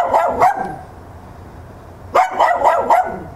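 A dog barks close by in two quick rhythmic bursts, three or four sharp barks each, separated by a short pause.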